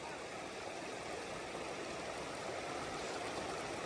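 Water streams steadily near Powerscourt Waterfall in County Wicklow, Ireland, as a constant broadband rush with no pauses. It is fairly quiet and carries no clear speech.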